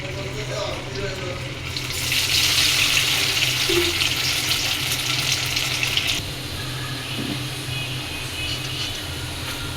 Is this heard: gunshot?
no